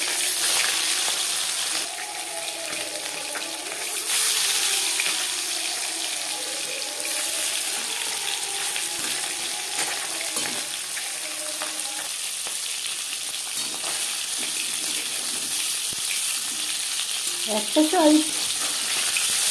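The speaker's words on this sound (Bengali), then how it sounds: "4-5 চামচ রিফাইন্ড অয়েল গরম করে নিয়েছি। দিয়ে দিলাম ম্যারিনেট করে রাখা মাছ" Marinated bhola fish, a sea fish, frying in hot refined oil, giving a steady close sizzle that runs throughout, with watery hiss and kitchen clatter, and a brief spoken phrase.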